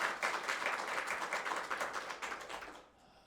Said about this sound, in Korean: 다시 한 번 더 박수로 환영하겠습니다